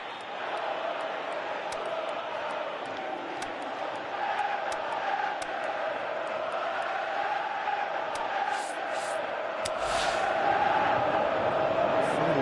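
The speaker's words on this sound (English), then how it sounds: "you can hear how the crowd are reacting to this too" Stadium crowd in the football video game PES 2018 during a Manchester United match, a steady broad roar of massed voices that swells slightly toward the end, heard at a distance with faint commentary underneath.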